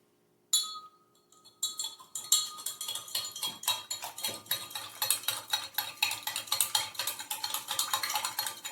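A spoon stirs lemon juice and sugar for lemonade, clinking quickly and repeatedly against the glass after a short pause, the taps growing denser and steady.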